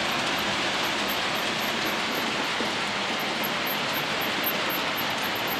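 Steady rumbling rail noise of a model railway train running along a layout track, continuous and fairly even with no voices.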